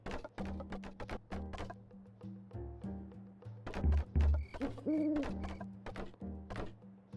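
An owl hoots in the Airborne Empire sky city-building strategy game, with a couple of low calls near the middle over a background of game sounds and soft thumps.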